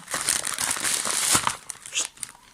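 A small AliExpress box, tightly wrapped, being unwrapped by hand: continuous close crinkling and tearing of plastic and tape, with a few sharper rips.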